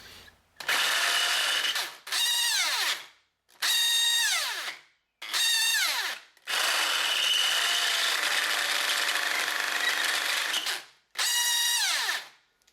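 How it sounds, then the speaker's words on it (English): A DeWalt DWD110 variable speed drill runs in repeated bursts, revving up and winding down with high whining tones, one long sustained run in the middle as a half-inch bit bores into 3/8-inch steel. "Half an inch drill into 3/8 thick steel."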